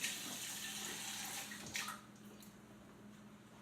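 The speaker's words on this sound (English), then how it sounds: "I'm going to wash my hands." Hands are washed under a running kitchen tap, the water splashing softly and steadily before cutting off partway through, then near silence.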